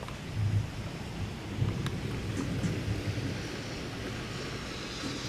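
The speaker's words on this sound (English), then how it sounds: "Lightning and thundering." A summer thunderstorm with thunder, heard as a low rumbling wash of rain and storm noise with soft swells, steady and without speech.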